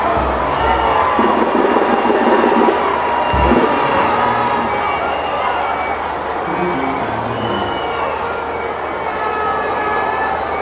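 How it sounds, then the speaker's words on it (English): A large outdoor crowd at a youth under-13 football Champions League medal ceremony roars and cheers as the arriving team is welcomed, a loud, dense, unbroken wash of noise lasting throughout. "let's clap and receive them with a resounding sound of applause"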